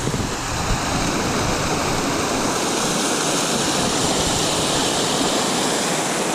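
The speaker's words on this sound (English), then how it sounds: "So 4 waterfalls" Several waterfalls at Indian Flats Falls along the Middle Prong Trail roar in a continuous, broad rushing wash of water, steady and full with no pauses or other sounds breaking through.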